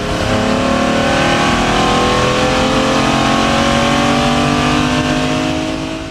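A 1972 Ferrari 365 GTB Daytona Spyder engine revs loudly and steadily up close, its rising harmonic tones sweeping upward continuously for about six seconds with no talking.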